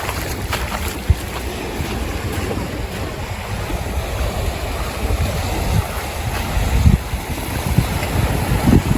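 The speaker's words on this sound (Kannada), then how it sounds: "ನೋಡಿ ಈ ಥರ ಬೋಟ್ಸ್ ಎಲ್ಲ ಹೋಗ್ತಾನೆ ಇರುತ್ತೆ." Boats pass on the sea around the Phi Phi Islands in Thailand, a continuous low engine rumble mixed with wind buffeting and washing waves, steady throughout with a few brief thumps.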